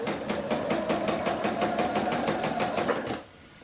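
A sewing machine runs a quarter-inch seam along the edge of a half log cabin quilt block, giving a fast, even stitching rhythm that holds steady for about three seconds and then stops abruptly.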